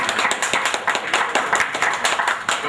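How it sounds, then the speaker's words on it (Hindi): An audience at a book event claps in dense, lively applause, with many hands beating steadily throughout. "एक बार जोरदार तालियों के साथ अभिनंदन"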